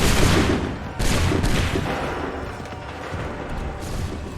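Musket volley gunfire in Assassin's Creed 3, a loud crackling burst of many shots fired together, followed by a second volley about a second later and rumbling echo that slowly fades.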